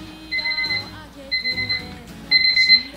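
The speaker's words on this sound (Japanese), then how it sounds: "なんでこんなところに目覚ましが" An alarm clock unexpectedly going off in a room at a live music venue beeps in three short, loud bursts of high, steady electronic tones, with faint room noise between them.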